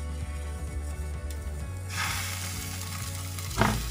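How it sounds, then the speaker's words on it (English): Water flicked onto a hot pan while preparing lamb shanks, giving a close, steady sizzle over low rumbling and a sharp burst of hiss near the end as drops hit the hot surface. "you flick it onto the pan and you can hear the sizzle"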